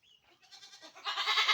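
Goats on a goat farm bleat in a quick run of overlapping cries, starting faint and growing louder and denser near the end, with no talk.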